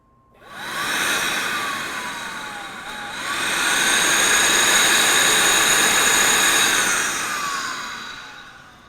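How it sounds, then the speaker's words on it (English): A BMW 530i secondary air injection pump spins up and runs as a steady, loud electric whine and rushing air hum, close by, rising after a brief dip and holding for several seconds. "Our pump is pumping, it's doing its job, it's creating air"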